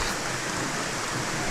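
Heavy rain pours down steadily over an outdoor football game, a dense, even hiss of water with no break.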